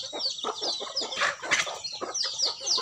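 Several chickens cluck nearby in a busy, overlapping chorus, with short bursts and higher squawks scattered throughout.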